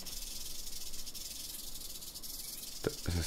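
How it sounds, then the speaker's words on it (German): In the jungle survival game Green Hell, a snake hisses in a loud, continuous, airy rasp close by, ending with a few brief thumps. "Das ist eine Schlange."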